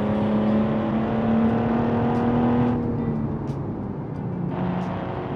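A 1955 Sport Coupe in BeamNG held at full throttle in third gear, its engine a loud, steady droning tone that climbs slightly in pitch, then eases off midway while still running hard.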